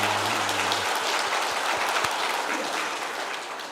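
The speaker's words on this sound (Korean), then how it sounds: "우리 하나님께 영광의 박수 올려드리겠습니다." A church congregation applauds during a Sunday service, a dense, steady wash of many hands clapping that fills the space and fades slightly toward the end, with a brief low tone at the start.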